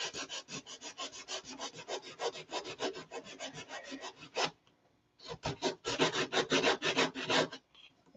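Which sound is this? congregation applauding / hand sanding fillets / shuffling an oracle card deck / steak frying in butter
hand sanding fillets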